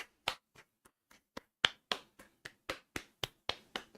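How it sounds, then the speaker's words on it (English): A single person claps alone in a quiet room, sparse sharp hand claps that start irregular and settle into a steady beat of roughly three per second. "Round of applause."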